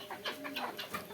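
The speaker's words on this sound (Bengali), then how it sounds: "এই দেখতে পাচ্ছেন আসলে অরিজিনাল মিশরীয় ফার্মি মুরগি" Egyptian Fayoumi chickens cluck in a quick run of short, close calls, several soft clucks overlapping in a brief burst.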